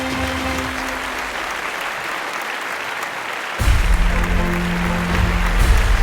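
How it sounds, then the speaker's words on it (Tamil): A large audience applauds at the Madhampatty Golden Leaf Awards ceremony, a dense continuous wash of clapping that swells louder and fuller partway through. "ஒரு பெரிய கைத்தட்டல் கொடுத்துடலாம்"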